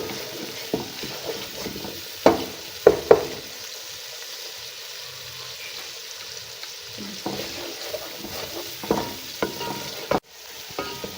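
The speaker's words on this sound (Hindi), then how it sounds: "ये देखिए मसाला भून रहा है।" Kofta masala fries in a pan with a soft low sizzle, punctuated by several sharp clacks and scrapes of a spoon stirring against the pan, nearby and without voices.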